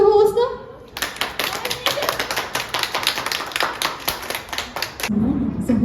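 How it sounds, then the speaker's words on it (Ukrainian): Rapid, steady hand clapping at a children's birthday party goes on for several seconds, loud and close, with a voice speaking briefly before and after. "нам потрібно з вами голосно, голосно плескати в долоні"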